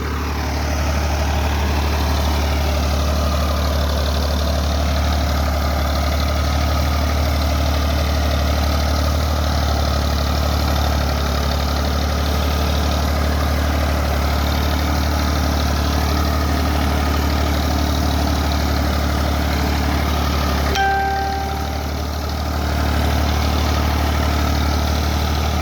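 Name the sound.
tractor engine running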